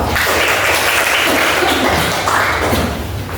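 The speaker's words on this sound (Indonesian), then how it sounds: "Beri tepuk tangan dong" Students in a vocational high school math class clap for a group that has just finished its presentation, a dense, steady patter of hands with some heavier thumps mixed in, and no speech.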